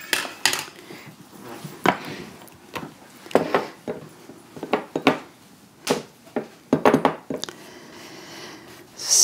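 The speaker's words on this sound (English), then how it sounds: "First I'm going to zest my lime, or my lemon here." A large lemon is zested in uneven bursts of scraping, rasping strokes that come close and fairly loud, separated by short pauses.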